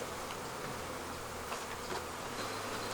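Honey bees from a queenless deadout colony hum in a steady, dense drone around a white hive, close and continuous with no voices.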